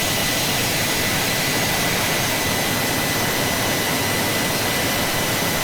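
Steady, loud jet engine roar from a Northrop B-2A Spirit in Microsoft Flight Simulator, a continuous broadband rush with no breaks or talk.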